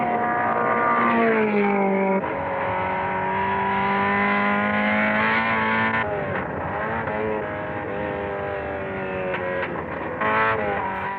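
A race car engine roars loudly and steadily, its pitch sweeping up and down as it revs through gears, with no voices.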